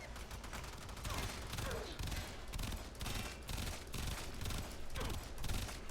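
A Kuva Hind firing in Warframe: repeated short bursts of game gunfire in a steady rhythm, fairly quiet and dense, with a commentator's voice faintly present.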